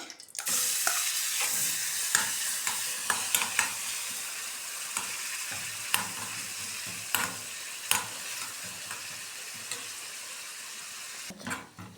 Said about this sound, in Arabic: معانا هنا معلقه سمنه وحبه زيت كده، هننزل عليهم ببصلايه صغيره